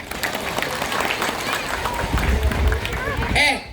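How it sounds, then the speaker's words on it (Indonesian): An audience at a mosque gathering for a Maulid Nabi celebration claps and cheers in a busy mix of hands and voices, with people talking through it, swelling briefly near the end. "Mana tepuk tangannya?"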